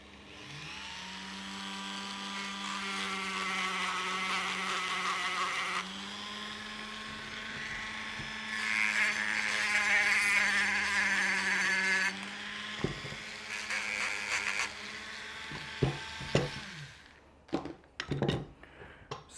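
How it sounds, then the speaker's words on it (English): A Dremel rotary tool sands the metal surfaces of a Hi-Lift off-road jack, a steady high-pitched whine that rises and dips as it bears on the metal, then breaks into short bursts near the end. "I've grabbed my Dremel and we're just going to sand off these surfaces"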